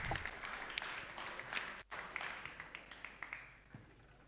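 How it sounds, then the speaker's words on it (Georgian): A crowd applauds the fighters at a ceremonial MMA weigh-in, with dense clapping that thins into scattered individual claps. "აპლოდისმენტებით გავიგოთ ბიჭები"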